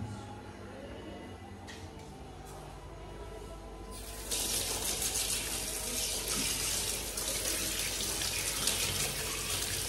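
A kitchen tap runs while a tea-making utensil is washed; quieter handling comes first, then the water gushes loudly and steadily from about four seconds on, close by.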